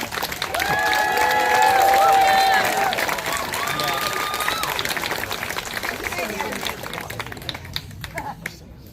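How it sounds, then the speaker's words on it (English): A crowd at an outdoor vigil in Lewiston, Maine claps and cheers for Sophia, a dense wash of hands with a few whoops, strongest early on and thinning out toward the end. "And a huge round of applause for Sophia"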